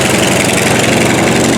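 A twin-engine plane takes off at a small airfield, its engines droning loud, close and continuous, with a buzzing mower-like roar throughout.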